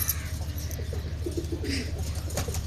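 Domestic pigeons, a breeding pair kept as top-quality birds, coo steadily at close range in soft rolling phrases over a low constant hum, with no talk.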